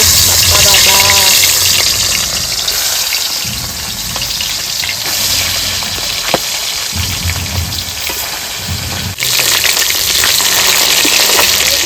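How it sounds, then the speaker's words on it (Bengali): Fish frying in hot oil gives a loud, steady sizzle that fills the whole stretch, with a brief dip and surge partway through as pieces settle in the pan. "তেলটা ভালো তেটে গেছে এবার মাছ দিয়ে দেবো"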